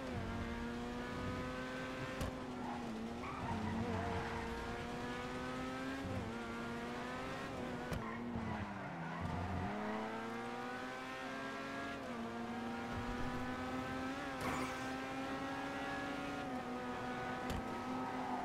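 A racing car in GTA V, the faster one in a server race, roars steadily with a sustained engine whine that dips and climbs through gear changes and brief skids.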